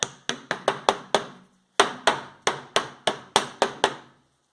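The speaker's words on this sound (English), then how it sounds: "Put the lid back on the can. Just use the back of the screwdriver. Pop that down." Sharp metal-on-metal taps as a paint can lid is hammered shut with the back of a screwdriver, two close bursts of about six quick knocks each separated by a short pause, loud and near.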